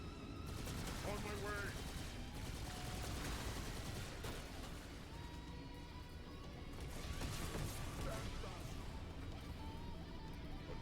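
Sustained gunfire rattles on through a Halo 2: Anniversary firefight, with dense automatic bursts and scattered impacts layered without a break for about eleven seconds, while people talk over the din.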